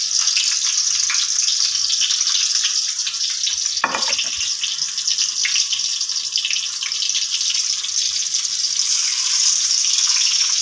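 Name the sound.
koi fish frying in oil in a pan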